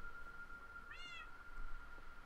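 A pet cat in the Minecraft video game gives a single short meow partway through, a clear synthetic game sound over a faint background hum.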